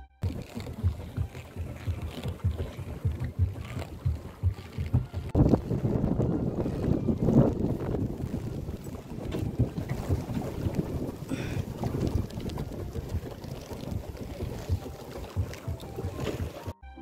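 A paddle boat cruises across a lake at Mount Abu in Rajasthan, carrying steady water sloshing and splashing from the paddles along with continuous wind buffeting the microphone, loud and close throughout without speech.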